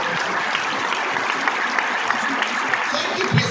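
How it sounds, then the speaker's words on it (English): Applause fills a hall at a university matriculation ceremony, a dense, even wash of clapping from a large crowd that holds steady throughout. "can we just clap to that one who is God Almighty?"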